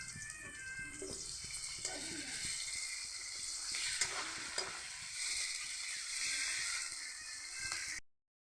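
Ginger and garlic paste frying in a pan, a continuous bright sizzle held at an even level with a few soft stirring knocks, alone and fairly close, ending abruptly.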